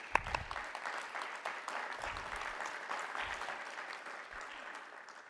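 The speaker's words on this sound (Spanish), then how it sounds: "Un aplauso, por favor." Applause at an academic panel on international collaborations in education, a burst of clapping that starts strong and slowly thins out over several seconds, with no speech over it.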